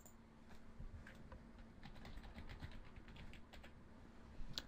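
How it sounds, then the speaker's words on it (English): A password typed on a computer keyboard: quiet, close key clicks in an irregular run, with a brief louder clatter near the end. "I'm just going to type in my password now."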